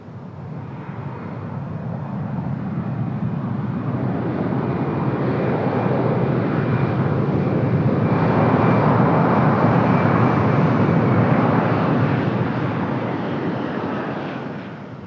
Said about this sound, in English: Sounds like we got the Velo departure coming up.